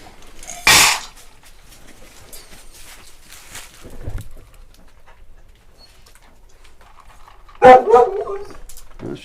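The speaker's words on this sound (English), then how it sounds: "Let's take care of the barking dog." A dog gives a single sharp, loud bark, then a softer, lower sound a few seconds later, and a final louder burst of barking near the end, with quiet gaps between.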